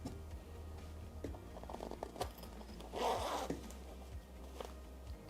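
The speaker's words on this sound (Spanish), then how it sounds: "bajo ellas tenemos una cremallera" A zipper on the rear of a Corsair T2 Road Warrior gaming chair's head cushion is pulled open, giving a close, quiet zipping rasp with scattered small scrapes and handling noises.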